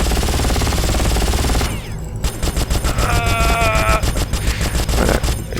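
Rapid automatic gunfire in Far Cry, a dense continuous burst filling the opening seconds, then after a short gap more loud, rhythmic game shots and effects crowding the rest.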